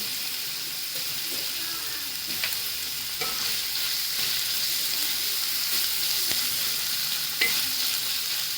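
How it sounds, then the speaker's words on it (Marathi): Onion frying in a pan for a fresh baby shrimp (jawla) dish, a continuous close sizzle with faint occasional stirring clicks, steady and unbroken, no voices. "कांदा चांगला नरम होईपर्यंत शिजवून घ्यायचा"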